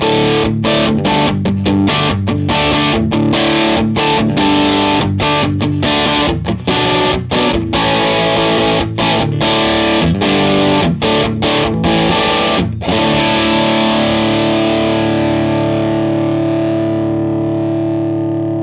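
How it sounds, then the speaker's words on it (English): Electric guitar through channel 2 of a Matchless Hot Box with saturated gain, loud distorted chords and riffs played with choppy stops, ending on a long ringing chord that slowly decays, no talking. "And channel 2 with more saturated gain sound dialed in."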